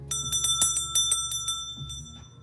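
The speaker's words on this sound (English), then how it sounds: "Get you a fucking bell." A bell rings in a quick series of bright, sustained strikes, about eight in two seconds, each tone ringing on under the next, loud and close with a low hum underneath.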